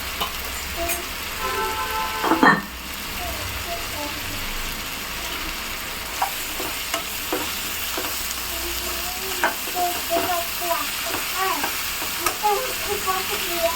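Tomatoes fry with salt in a pan for a spicy egg tomato thokku, a loud continuous sizzle with scraping stir strokes and a clatter near the start, under occasional talk.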